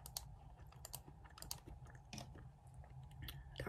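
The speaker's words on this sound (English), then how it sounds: "I will work as I am chewing that big bar" A big dark chocolate bar is chewed up close, with quiet, irregular crunches and mouth clicks and no talking.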